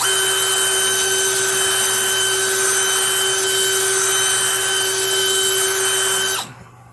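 A power drill whines steadily at high pitch while grinding through the stainless steel housing of a trailer hitch receiver lock, continuous and loud, then cuts off abruptly near the end.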